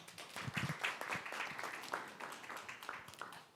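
Scattered audience clapping at a corporate 2020 digital project launch ceremony in Korea, fairly faint and loose, with uneven individual claps fading toward the end.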